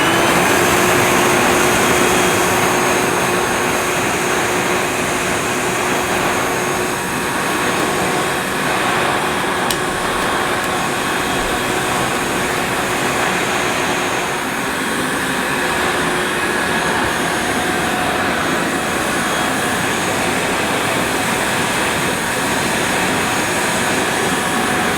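A 1977 Hoover S3005 Celebrity Air Ride vacuum cleaner runs continuously, giving a loud, steady motor whine with a sustained tonal hum and airy rushing underneath, unchanging for the whole stretch with no talking.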